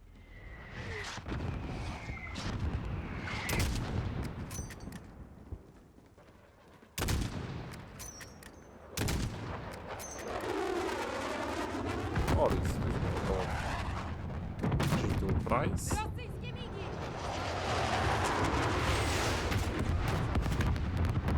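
Gunfire and explosions in Call of Duty: Modern Warfare (2019) on PS4: loud, dense bursts of shots and blasts with sharp cracks, brief drops to near quiet, then sustained rumbling fire toward the end.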